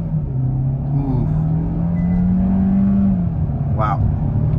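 A 2022 Kia K5 EX launching hard from a stop in sport mode, its engine rising in a loud, steady drone that climbs in pitch, heard from inside the car with a brief voice near the end.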